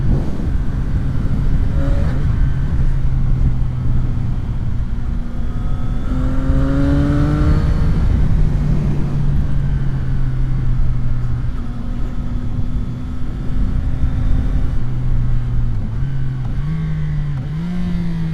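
A CFMOTO 675 SR-R motorcycle being ridden, its engine droning loudly and steadily with pitch sweeping up and down through gear changes, close and continuous under wind and road noise, no talking.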